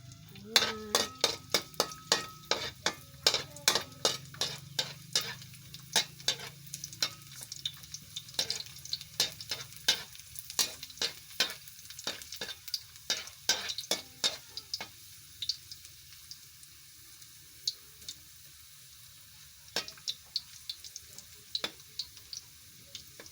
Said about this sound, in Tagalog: Lagyan natin ang bawang.